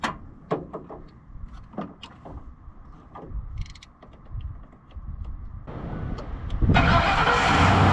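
Van engine cranking on a jump starter in a mountain setting, with clicks and mechanical rattles first and then the engine catching into a louder steady running roar in the last seconds.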